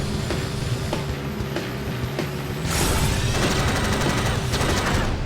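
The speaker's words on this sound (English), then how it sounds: "I'm getting shot at." Weapon fire strikes a racing car in the combat racing game Jak X Combat Racing: a dense, rattling barrage of gunfire and clanking mechanical hits that grows louder and harsher midway, with the engine droning steadily underneath.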